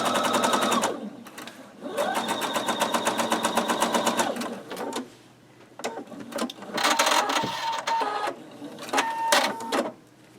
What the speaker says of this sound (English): Put a back stitch in it and go.